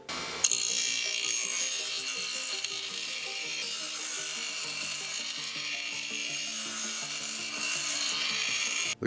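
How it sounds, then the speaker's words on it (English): Rough edges of metal pieces for a firewood rack are sanded smooth, producing a continuous hissing abrasive rasp that holds steady throughout. "we'll get these sanded up, all the rough edges off"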